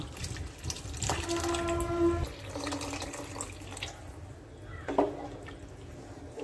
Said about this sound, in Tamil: இப்போ இதில் அந்த புளிசாரை ஆட் பண்ணிக்கலாம்.